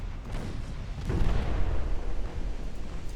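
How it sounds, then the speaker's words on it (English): Torpedo striking a warship in the naval battle game Ultimate Admiral Dreadnoughts, a deep muffled boom that swells into a rolling rumble and keeps thundering underneath without clear speech. "Was it a flooding hit? Torpedo hit."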